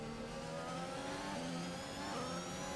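Race car engine in F1 2021 during a wet Singapore race, a steady mid-pitched drone with slight stumbles and pitch wobbles as it misfires, continuous and moderately loud with no talk.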